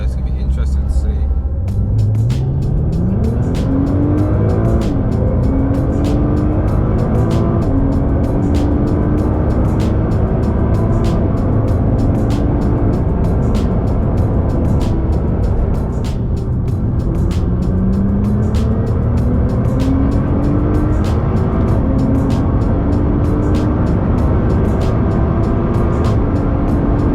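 A 630bhp Nissan GT-R on a drag run at Santa Pod, its engine roaring loud and close with rising revs through successive gear changes, a sustained powerful drone throughout.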